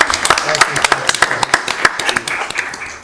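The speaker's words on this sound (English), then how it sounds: "Again, another big round of applause for all the people that worked hard on" Applause in a town council chamber in Garner, a round of distinct, fairly close claps from a small group, loud and somewhat uneven, thinning toward the end.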